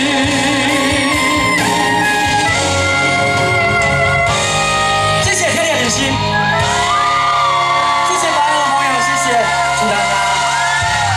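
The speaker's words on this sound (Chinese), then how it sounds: "掌声加尖叫声" Crowd at an outdoor opening-night concert of a lotus festival in Baihe, Taiwan, shouting, whooping and cheering loudly and continuously, mixed with music and amplified voices.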